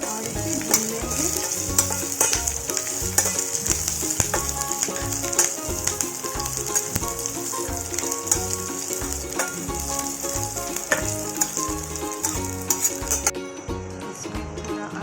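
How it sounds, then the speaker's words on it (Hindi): Green chili with carom seeds and nigella frying in a pan for a paneer paratha filling, a bright steady sizzle heard under rhythmic background music, cutting off near the end. "इसके बाद इसमें स्वादानुसार थोड़ा हरा मिर्च डाल देंगे और इसे भून लेंगे"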